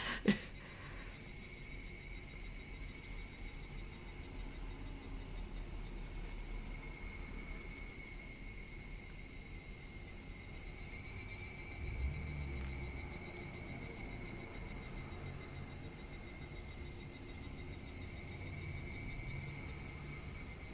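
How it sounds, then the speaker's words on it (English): Cicadas droning in the Higurashi game's village backdrop, a steady, even insect buzz that holds throughout at low level with no voices over it. "mostly just cicadas chirping in the background"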